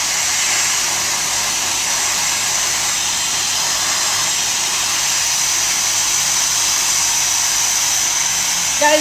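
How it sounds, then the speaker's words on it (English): Hair dryer blowing on hair during styling, a loud, steady, broadband whoosh that runs continuously without break, with a brief faint clatter at the very end. "never go with your dryer like this, because see what happens, it will create frizz when you do it"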